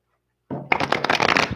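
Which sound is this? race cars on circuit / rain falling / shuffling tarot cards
shuffling tarot cards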